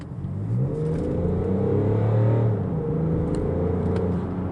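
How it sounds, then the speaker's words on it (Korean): BMW X5 30d diesel with M Sport trim accelerating hard in sport mode, its engine note blended with a synthetic virtual sound system, a steady loud rising drone heard from inside the cabin throughout. "스포츠 모드에 놓고 달리면 가상 사운드 시스템이 들어가는 것 같아요"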